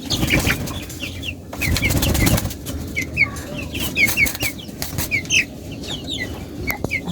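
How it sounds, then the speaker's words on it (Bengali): Tiger chickens and farm chickens in a coop cluck in a continuous chatter, with a burst of wing flapping and scuffling early on before the soft clucking carries on. "টাইগার মুরগিগুলো ওই যে ফার্মি মুরগিগুলো ভালো আছে সুস্থ আছে"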